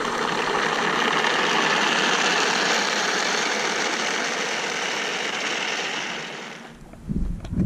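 A small model ground effect vehicle's motor runs at low throttle with a steady, buzzing whine that holds for several seconds, then cuts off abruptly into a brief low thump and rustle near the end.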